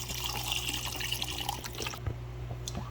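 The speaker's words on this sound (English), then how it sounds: "I'm going to pour this entire contents, which is approximately 4 cups of beef stock." About four cups of beef stock pour into a pot of goulash, a continuous close splashing trickle that thins to lighter drips toward the end.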